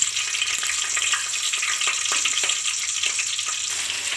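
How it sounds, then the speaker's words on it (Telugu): Green chillies spit and crackle in hot oil, a loud dense sizzle running steadily throughout with small pops scattered across it. "ఆయిల్ వేసిన తర్వాత పచ్చిమిరకాయలు వేస్తున్నాను."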